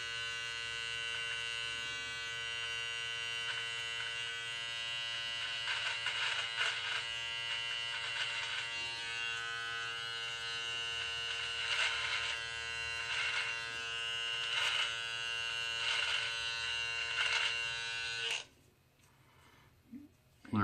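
An electric beard trimmer with a small attachment buzzes steadily and close for about eighteen seconds while cutting a beard, with a quieter room tone at the end.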